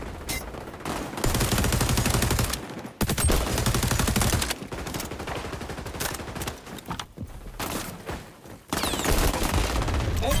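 Rapid gunfire from the video game XDefiant rattles in dense automatic bursts, with loud continuous fusillades broken by brief pauses, and a player's voice comes through intermittently.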